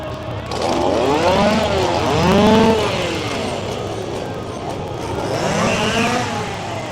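Chainsaws rev in repeated rising and falling whines, one after another, over a noisy outdoor crowd background at a Halloween horror theme park event.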